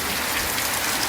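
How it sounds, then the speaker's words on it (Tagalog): Heavy rain pours down in a dense, loud, continuous hiss with no pauses and no other sounds. "ang lakas ng ulan, ang lakas"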